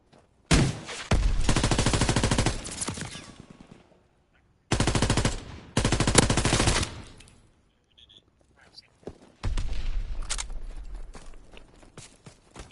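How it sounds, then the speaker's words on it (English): Gunfire in a video game aimed at the player, heard in loud bursts of rapid automatic fire that start and stop several times, with short quiet gaps between them. "Oh, I've just been shot at."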